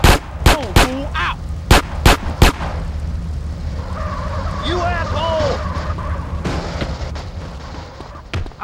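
Gunfire in the video game Grand Theft Auto San Andreas: a quick burst of loud, sharp shots in the first few seconds, then game voices and ambience, with one more shot near the end.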